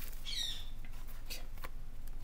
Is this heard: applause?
no